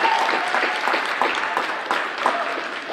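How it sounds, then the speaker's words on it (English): Gymnasium crowd applauding senior volleyball athletes at a high school varsity match, a steady, dense clapping that fills the space for about three seconds with a few louder bursts. "let's do a round of applause for our senior volleyball athletes here for 2020"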